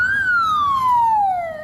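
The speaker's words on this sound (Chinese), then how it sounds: "大货消防车甲救护车伫炼油厂进出" A single wailing siren sweep from a fire engine or ambulance at a refinery, loud and close, its tone gliding slowly downward over under two seconds.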